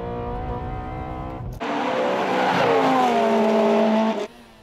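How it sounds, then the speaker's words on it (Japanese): Race cars on a mountain pass accelerate hard past the microphone, engines rising in pitch through the gears with a roaring pass in the middle, loud and close, then dropping away as the next car comes on. "ノブのアクセルとともに MRS が離される"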